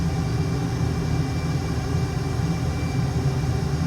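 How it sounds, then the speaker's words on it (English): Steady low roar of an F/A-18 jet engine at military power during takeoff in Microsoft Flight Simulator 2020, a constant rumbling drone without variation or voices. "We'll do military power takeoff because unfortunately we don't have burner."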